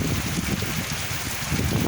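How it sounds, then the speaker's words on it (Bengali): Heavy rain and strong wind in the desert near Jeddah, Saudi Arabia: a steady broadband roar of downpour and gusts buffeting the microphone, loud and continuous with no voices. "সৌদি আরব বৃষ্টি হচ্ছে, আপনারা দেখেন।"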